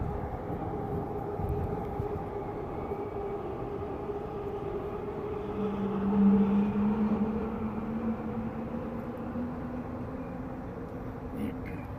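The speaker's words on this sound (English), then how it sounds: "train's gotta go by" A train rumbles past steadily, a low continuous roar with a brief swell in the middle as it goes by, no one talking over it.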